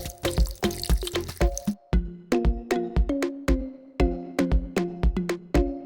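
Water poured over dried prunes, apricots, dates, raisins and rice for pilaf, heard as a close run of bright, rhythmic splashing drips, dense at first and then spaced into regular plops.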